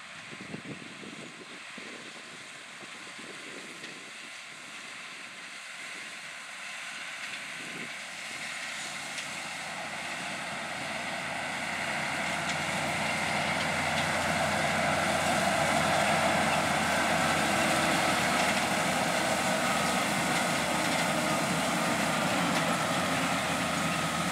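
A John Deere 9510RT tractor pulls a 42 ft Great Plains UT5042 Ultra-Till through field stalks and residue, its engine drone steady then swelling louder and nearer as it passes, with continuous broadband rumble and no voices.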